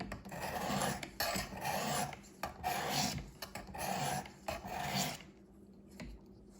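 A knife blade is drawn repeatedly across the abrasive of a Work Sharp Precision Sharpener, giving close, rhythmic rasping strokes in a steady back-and-forth series.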